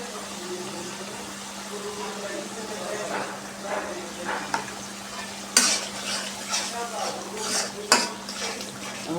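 A pan of spice masala with chili and coriander powder is stirred and fried, a spatula scraping and clinking against the metal with a steady low sizzle and a few sharp knocks, no one speaking.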